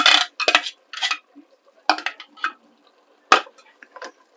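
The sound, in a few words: stirring pesto risotto verde in a pot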